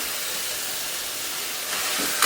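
Potatoes frying in a pan, a steady broadband hiss of sizzling oil that holds even throughout and swells slightly near the end, with no voices.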